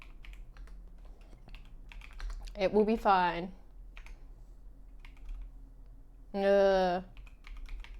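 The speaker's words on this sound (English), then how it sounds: "I'm typing with my other fingers." Light tapping on a computer keyboard runs steadily in the background while a person speaks a few short casual phrases over it.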